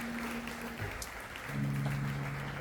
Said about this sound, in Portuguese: Pode aplaudir o Senhor pelo Senhor.